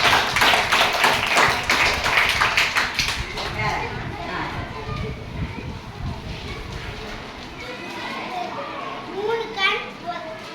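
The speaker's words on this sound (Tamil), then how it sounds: "எல்லாரும் கை தட்டு" A group of schoolchildren burst into loud, dense clapping at first, which fades into scattered claps and children's chatter over the following seconds.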